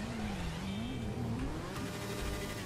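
A big motorcycle engine revs in GTA 5 during mountain off-road riding, a continuous droning whine that rises and falls in pitch, fairly loud and steady throughout.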